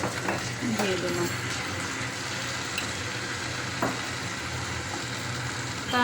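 Aloe vera gel sizzling as it hits hot oil in a pot for a homemade herbal hair oil, a steady close crackling fry with occasional stirring scrapes, heard alone.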